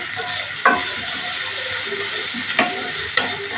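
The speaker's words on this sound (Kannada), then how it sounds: "ಸ್ವಲ್ಪ ಫ್ರೈ ಆಗ್ಬೇಕು ಚೆನ್ನಾಗಿ ಈರುಳ್ಳಿ." Green chilli and onion fry in a pan for vada pav, giving a steady sizzle with a few sharp scraping stirs spaced through it.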